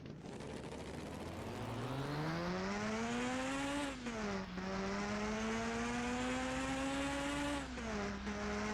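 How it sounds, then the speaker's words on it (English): A Mazda RX-3 rotary engine revs up steadily with a buzzy, raspy exhaust note, pitch climbing through the gears with brief dips at shifts, loud and continuous. "has a very weird exhaust sound"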